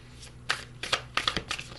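A deck of oracle cards being shuffled by hand, giving a quick run of soft riffling, papery flicks in short bursts, close and alone with no talk.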